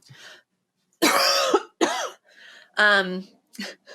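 Several harsh, close coughs come in uneven bursts, mixed with throat clearing and brief voiced sounds.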